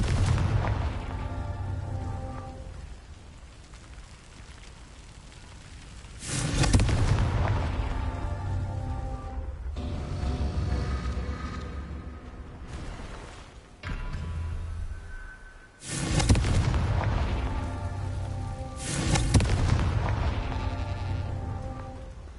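Confringo explosive spells go off in the Hogwarts Legacy game as a series of deep, rumbling booms and blasts, loud and sustained over a noisy backdrop, with several distinct bursts spread across the stretch.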